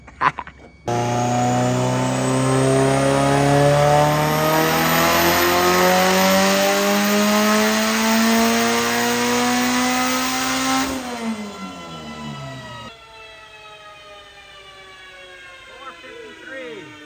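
A Chevy Cruze with a 1.8 liter Ecotec engine revs loudly and close by, climbing in a long sustained pull with rising pitch, holding high for about ten seconds before dropping back toward a lower idle.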